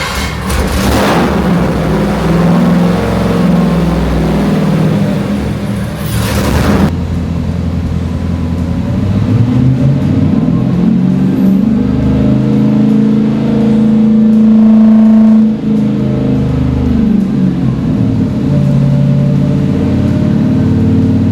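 A Gen-III Hemi V8 running on a dyno with stock Hellcat exhaust manifolds, a loud sustained roar that rises and falls as it is revved, close and continuous with no talk.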